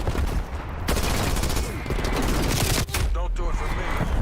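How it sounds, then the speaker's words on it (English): Sentry turrets firing in a video game, loud sustained automatic gunfire bursts filling the clip, with game voice audio underneath. "Multiple enemy sentry turrets active."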